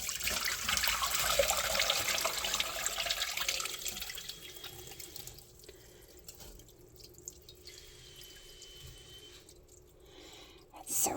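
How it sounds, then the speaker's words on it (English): Tea poured from a Pyrex glass measuring cup through a metal strainer, a steady trickling splash that thins into sparse drips, with a voice talking faintly underneath. "we're just going to use one of these Pyrex glass measuring cups again, and pour it in through this metal strainer"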